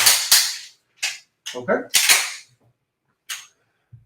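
Combat shotgun firing: several sharp, loud blasts, close up and spaced unevenly, with brief speech between shots.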